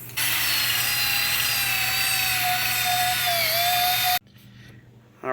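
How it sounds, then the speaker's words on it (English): A wire brush spun by a power drill scouring rust off a Jeep XJ axle part during a universal joint and hub bearing job, a loud continuous whirring grind that cuts off abruptly near the end. "Alright, I wire brushed all that."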